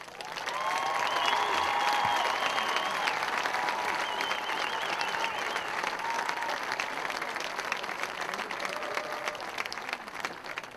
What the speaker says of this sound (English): I ask you to join me in giving the honored graduates and their families one more round of applause